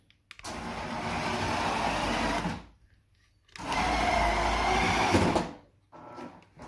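A Walmart RC car's electric motor whines in two separate bursts of about two seconds each as it drives and drifts, with near silence between runs.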